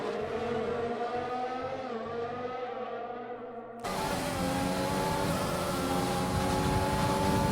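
Formula 1 race cars in the F1 2020 video game on the USA circuit, engines screaming loudly with rising harmonic pitch as they accelerate, a second car cutting in abruptly at full volume midway.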